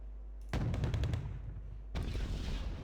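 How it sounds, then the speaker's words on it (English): Milan 2 anti-tank missile fired in Wargame: Red Dragon, two loud broadband launch blasts in quick succession, each followed by a rushing roar that fills the rest of the moment. "Milan 2 firing at that BMP again"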